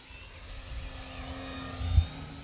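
An FMS P-40B radio-controlled model airplane with a 1.4 m wingspan flies overhead, its steady electric motor drone running at moderate, even volume and swelling slightly as it passes near.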